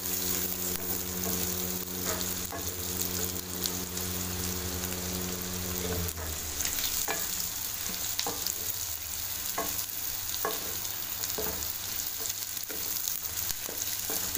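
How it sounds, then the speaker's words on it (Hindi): Potatoes fry in a pan with eggs, a steady crackling sizzle broken by repeated stirring scrapes, with a low hum in the first half that then stops. "अब हम इसमें आलू डाल देंगे। इनको अच्छी तरह से मिक्स कर लें।"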